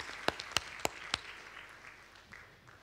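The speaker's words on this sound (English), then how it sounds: "Give him a clap offering." A few sharp, separate hand claps ring out in a church congregation, four quick strikes in the first second or so, then the room quietly fades to faint ambience.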